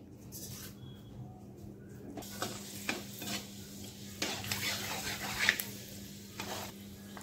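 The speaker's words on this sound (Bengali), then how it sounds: "এটার মধ্যে দিয়ে দিছি তেল, আর পুরনে দিমু মেথি।" Fenugreek seeds hit hot oil in a wok, bursting into a crackling sizzle that swells in waves between scraping stirs of a spatula, close and moderately loud.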